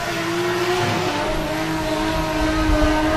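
A 1JZ-powered Mazda RX-8 drift car warms its rear tyres at a British Drift Championships qualifying round in Buxton, its engine holding a loud, sustained high-revving drone with a hint of tyre squeal.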